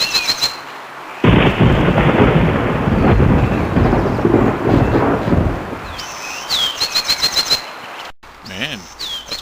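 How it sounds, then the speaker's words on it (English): A thunderstorm in a cartoon rumbles with one long heavy roll of thunder, then quieter crackles with bird chirps and sharp electronic blips toward the end. "Man, that's quite the thunderstorm."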